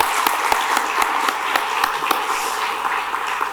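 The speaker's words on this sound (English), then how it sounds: "Can we just give one more round of applause to Mayor Muriel Bowser?" Applause from the audience at a downtown DC forum for Mayor Muriel Bowser, with sharp individual claps standing out over a steady, moderately loud wash of clapping.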